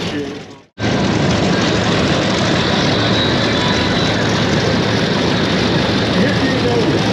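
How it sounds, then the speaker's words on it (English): A propeller airplane taxis at an air show, its engine a loud, steady broadband roar close by that starts after a brief gap and holds without letting up. "when these airplanes taxi, they stick tail to the right and they stick tail to the left"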